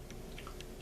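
Close, soft crunching and mouth sounds from chewing elf-themed sugar cookie cereal, with a few brief crisp bites standing out over a quiet background.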